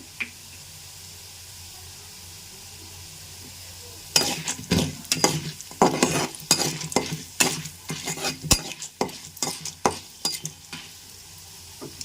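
Mustard seeds and other tempering spices splutter and crackle in hot oil in a pan for a citron (dabbakaya) pulihora rice dish, quiet at first and then a burst of sharp, irregular pops over a steady sizzle.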